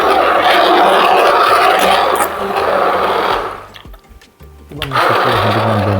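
Electric blender whirring through boiled carrot and pumpkin soup, a loud steady motor drone that dips and cuts out briefly near the end before starting up again.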